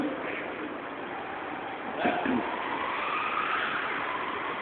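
A Nissan 350Z engine roars steadily at close range, a continuous loud rumble that swells slightly midway as the revs rise.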